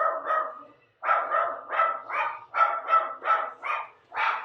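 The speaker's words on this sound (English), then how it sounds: "Sorry, my dog's barking." A dog barks in a quick series of about nine or ten loud, close woofs after a brief pause, with no other sounds.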